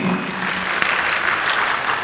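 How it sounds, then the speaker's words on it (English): A crowd claps at an outdoor UDA youth public participation event in Eldoret, a dense, steady wash of applause that holds without a break from start to finish. "Clap for him."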